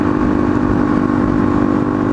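A Suzuki DRZ motorcycle fitted with a free-flow exhaust and a 160 pilot jet runs at a steady idle, its engine throbbing close and loud throughout.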